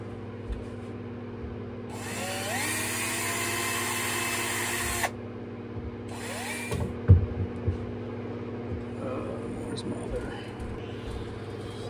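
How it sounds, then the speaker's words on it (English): A power drill whirs loudly for about three seconds drilling 3/16 holes for rivets in a galley cabinet on a 1984 Chris-Craft Catalina 381 boat, then a second shorter burst follows, with clanks and handling noises after, close by. "So I'm gonna drill out 3/16,"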